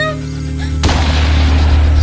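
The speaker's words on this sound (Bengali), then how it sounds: "গুলির শব্দ।" A single loud gunshot from a pistol in a Bengali thriller film scene cracks sharply after a tonal musical lead-in, followed by a sustained low rumbling swell.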